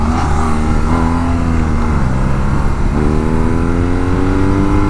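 A 2018 BMW R nineT Urban GS motorcycle is ridden over a speed bump. The engine is loud and close, holding a steady drone with small rises and dips in revs as the bike rolls over the bump.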